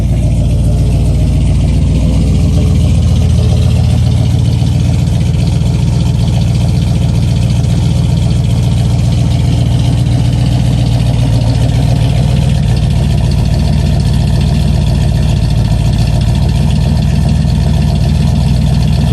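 A 1971 Chevrolet Monte Carlo V8 with a small cam idles steadily and loudly up close, a deep continuous low rumble with a slight lope, running alone with no talk for about nineteen seconds.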